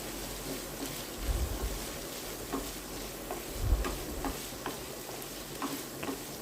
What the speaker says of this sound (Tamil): அதையும் சேர்த்து நல்லா வதக்கிடுங்க.